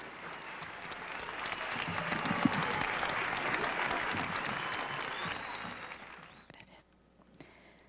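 Audience applause at an Ecuadorian presidential ceremony, a dense, sustained clapping that holds steady and close for about six seconds before thinning out and fading to a few scattered claps.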